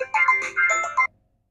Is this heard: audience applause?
no